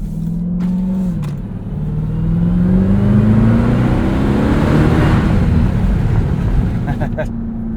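A 2023 Dodge Durango SRT Hellcat three-row SUV roars with a loud, aggressive exhaust as it accelerates, the engine note climbing steadily and staying close and dominant throughout.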